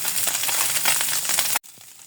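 River fish frying in a pan gives off a bright, dense sizzle with crackling pops, running steadily before cutting off abruptly, leaving quieter faint sizzling afterward.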